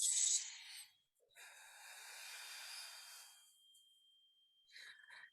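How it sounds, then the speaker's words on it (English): A person exhales hard and blows a long, steady breath out, close and fairly quiet, with a short sharp intake of breath before it and faint breathy sounds after. "Exhale, blow it out."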